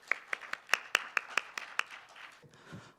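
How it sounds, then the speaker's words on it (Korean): A seminar audience at a regional policy forum on wildfire recovery in Gangwon gives a short round of clapping: a handful of distinct, spaced claps at close range that thin out and fade, followed by faint rustling. "큰 박수로 환영해 주시기 바랍니다."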